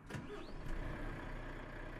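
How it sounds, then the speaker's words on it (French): A Renault truck engine cranks and catches in Euro Truck Simulator 2, a short starter burst settling into a low, steady idle rumble that stays close and even for the rest of the moment. "Démarrage du Renault Voilà, le contact et le moteur."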